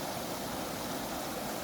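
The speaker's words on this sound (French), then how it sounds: "au petit barrage qui forme une cascade" Water spills steadily over a small weir into a cascade, a continuous broadband rush with a low churning rumble, close and unbroken, with no voices.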